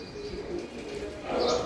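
Small birds chirping near a home as they come to eat a morning food offering, a soft, steady chatter with some cooing, brightening toward the end amid low background noise.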